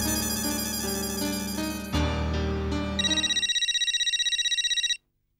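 A mobile phone ringtone plays on a Marathi TV sitcom, a melodic tune over a music bed that gives way to a rapid, steady electronic ring pulse before stopping abruptly.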